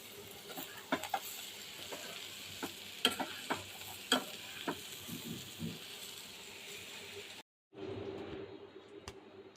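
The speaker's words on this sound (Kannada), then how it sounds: "ಇವಾಗ ಕೊತ್ತಂಬರಿ, ನೀಟಾಗಿ ಮಿಕ್ಸ್ ಮಾಡ್ಕೊಳ್ಳಿ" A spoon stirs and tosses crispy corn chaat with fresh coriander and pepper in a bowl, making soft irregular clicks and scrapes close by, with a short silent break near the end.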